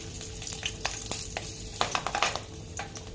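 Cumin seeds and two or three green chillies sizzling in hot oil for a mixed vegetable gravy, steady crackle with scattered sharp pops, close and moderately quiet, no voices.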